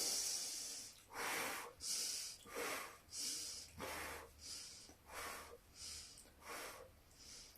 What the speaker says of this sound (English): You could even now start to add your Pilates breathing.